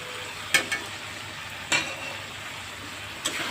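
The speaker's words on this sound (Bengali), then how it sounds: "দিয়ে নেড়ে চেড়ে তরকারিটা নামিয়ে ফেলবো।" A spoon stirs pumpkin and pointed gourd curry in a pan over a low background hiss, producing three short scraping knocks spaced about a second apart.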